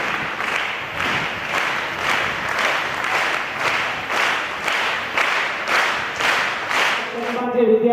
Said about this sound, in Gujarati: આ બેનને આપણે જોરદાર તાળીઓથી સ્વાગત કરી અને ટ્રોફી તથા રોકડ પુરસ્કાર એનાયત કરીએ